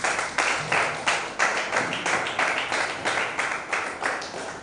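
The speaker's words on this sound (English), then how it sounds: "Please, you will have to clap better." An audience claps steadily with no one speaking, a dense run of many hands that swells in repeated bursts about every half second. The gathering is a creative writers and readers bootcamp.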